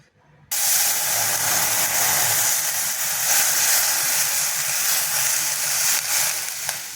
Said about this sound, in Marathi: आता त्याच कढईत आपण दूध टाकू